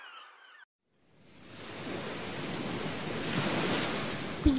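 Sea waves break on a beach. After a short silence the surf swells into a loud, steady wash of crashing water that stays close, with no voices.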